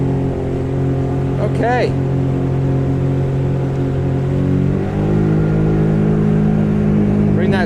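A 2018 Scarab 195 ID jet boat engine hums loudly, then its pitch climbs as it speeds up around the middle, with a person speaking briefly over the engine drone.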